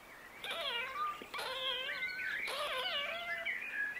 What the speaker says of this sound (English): I heard a kitten mewing.